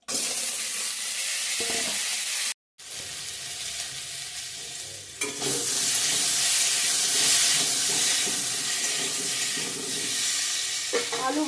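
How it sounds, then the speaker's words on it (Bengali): Potatoes fry in hot oil with a loud, dense sizzle and hiss, briefly interrupted by a cut, then surging louder as they crackle steadily. "এখন আলুটা ভেজে নেব তেল গরম হয়ে গেছে"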